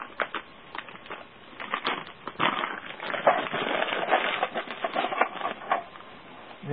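Foundry sand being mixed by hand with fine bentonite clay at ten parts sand to one part clay, heard as close, dense gritty scraping and crunching in an irregular, continuous stream with no voices.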